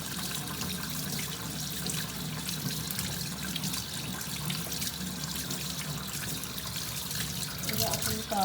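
Tap water runs steadily into a sink while an arm is rinsed off after a bleaching soap treatment, a continuous close splashing wash with a soft voice speaking over it.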